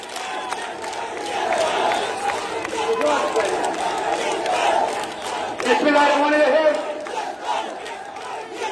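A large crowd at a BNP rally in Sylhet cheers and shouts as a big procession arrives, a dense continuous roar of voices that swells louder toward the end.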